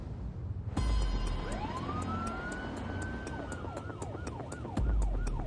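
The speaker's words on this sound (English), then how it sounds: "We're coming on blue lights and sirens" Ambulance siren running on blue lights, a loud electronic wail that sweeps up and holds, then shifts into a rapid yelp, heard from close by under steady vehicle noise.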